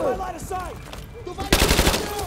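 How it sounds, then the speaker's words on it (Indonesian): Gunfire in Call of Duty Modern Warfare 2 Remastered, a loud rapid automatic burst arriving in the second half after game sounds and a brief voice. "Ada yang tembak-tembak, di mana ya suaranya?"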